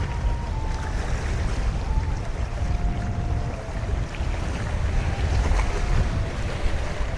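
A cargo ship passes on the Muriganga river near Bakkhali, beside a mangrove bank at ebb tide. A low, steady rumble blends with lapping water and strong wind buffeting the microphone, and no one speaks.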